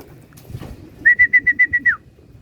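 A racing pigeon, finishing the last lap of a summer race, gives a run of seven evenly spaced, clear whistled coo-like notes, fairly close and loud over a low murmur of background noise.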